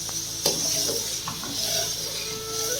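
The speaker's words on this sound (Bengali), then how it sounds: "তো ভালো করে আমি নাড়াচাড়া করে নিচ্ছি" Homemade desi ghee bubbles in a pan over a medium flame while it is stirred, giving a soft simmering hiss with a sharp metal clink and scattered scraping strokes, close and fairly quiet.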